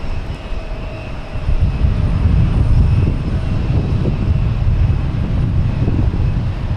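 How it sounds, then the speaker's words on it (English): An American Airlines E-175 jet arriving from Cincinnati on landing at Boston Logan, a loud steady low engine roar swelling gradually and holding, heard alone without talk. "American Airlines E-175 coming in from Cincinnati."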